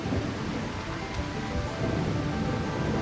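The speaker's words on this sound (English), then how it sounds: "Rain!" Steady rain with rumbling thunder in the video game The Legend of Heroes, a dense, continuous wash of sound with a low roll underneath, with no talk.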